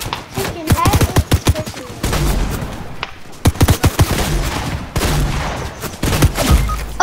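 Video game gunfire: a rapid burst of sharp shots, then short pauses, then more volleys of repeated cracks, loud and close, with speech mixed in between the bursts.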